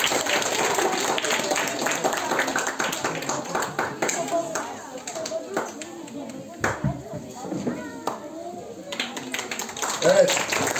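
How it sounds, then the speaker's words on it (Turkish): Audience clapping breaks out at a Nevruz celebration to welcome a folk minstrel to the stage, a steady spread of handclaps that runs on for several seconds with voices mixed in. "Alkışlarınızla aşık Ali Rıza Ezgi Ozan'ımızı buraya davet edelim"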